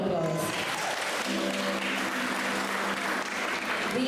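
Applause fills a primary school graduation ceremony as the audience claps for the pupils, dense and sustained throughout, with voices faintly audible beneath the clapping.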